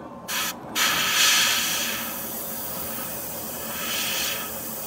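A steady, airy hiss of an airbrush spraying thinned AK Real Colour lacquer acrylic paint, opening with two short sharp bursts before settling into a continuous even spray.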